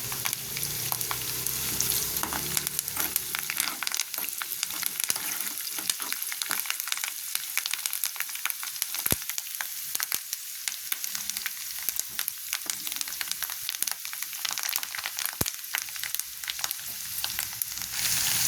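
Curry leaves and turmeric frying in oil for a ridge gourd milk curry, a loud, dense, continuous crackling sizzle with sharp pops throughout.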